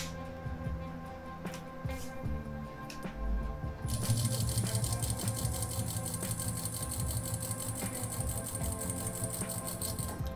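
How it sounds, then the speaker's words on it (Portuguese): A sewing machine stitching fabric, with quiet handling and clicks at first, then a steady rapid mechanical whir and chatter for the rest. "Vamos pegar um tecido aqui e vamos costurar, certo?"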